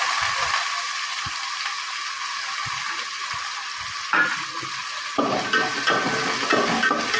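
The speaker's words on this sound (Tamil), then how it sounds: "சின்ன வெங்காயத்தை போட்டுக்கோங்க." Shallots frying with garlic in a pan, a steady hissing sizzle that grows louder and busier as the shallots hit the oil, with the scrape of stirring underneath.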